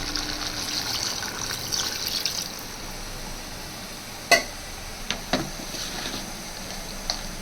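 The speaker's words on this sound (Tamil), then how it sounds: "குழம்புக்கு தேவையான அளவு தண்ணி ஊற்றிப்போம்." Water is poured into a mutton curry spiced with chili powder, giving a soft, steady trickle and gush over a low background hiss, followed by a few sharp clinks of utensils.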